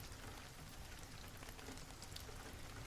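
Steady rain falls on a surface in a soft, even patter that continues unbroken throughout, with scattered drop ticks and no other sounds, fitting a quiet bedtime reading backdrop.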